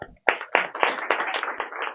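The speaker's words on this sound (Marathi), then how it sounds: "तुमच्यासाठी एकदा मी टाळ्या वाजवतो." Hands clapping during a Marathi devotional discourse by a preacher: two sharp, close claps, then a dense run of rapid clapping that carries on steadily, with no talk over it.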